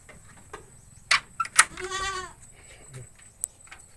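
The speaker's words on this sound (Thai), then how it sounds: "ดูน้องแพะ ทำอะไร" A goat gives a single short, wavering bleat near the middle, surrounded by faint clicks and soft outdoor background noise.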